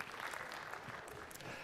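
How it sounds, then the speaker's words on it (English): Lecture hall audience clapping, a steady faint patter of applause lasting under two seconds with no voices. "have a round of applause for the rankers"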